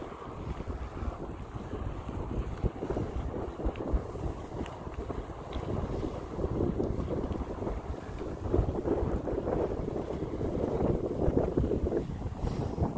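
Steady, blustery wind buffets the microphone at a Jonathan Dickinson State Park campground, a broad low roar with gusts swelling louder toward the end.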